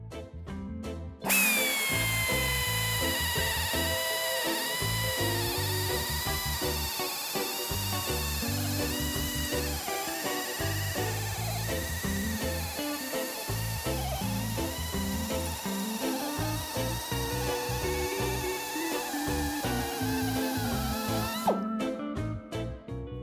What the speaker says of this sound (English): So we're going to drill the hole now.